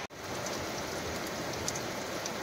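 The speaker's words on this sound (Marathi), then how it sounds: "मित्रांनो, पाऊस पहा" Heavy monsoon rain pours steadily in the Konkan countryside during the Ganesh festival season, a dense, continuous hiss with scattered louder drops on surfaces, close and unbroken.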